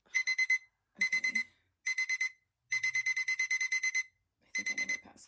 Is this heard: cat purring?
no